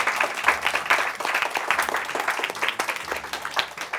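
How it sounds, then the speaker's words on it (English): Studio audience applause at the end of an interior design business podcast, a continuous dense patter of clapping heard alone. "Give yourselves a round of applause."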